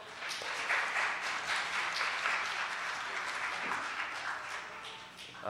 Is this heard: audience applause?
yes